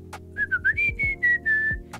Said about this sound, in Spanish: puedo silbar muy fuerte